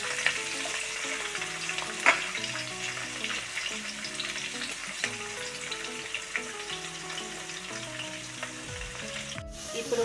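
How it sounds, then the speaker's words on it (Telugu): Onions and green chillies fry with mustard seeds in a pan for a dried fish tomato curry, a soft, steady sizzle with light stirring scrapes throughout, faint and with no talk. "ఇవి కూడా వేగనిద్దాం బాగా"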